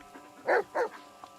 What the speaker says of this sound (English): love this dog.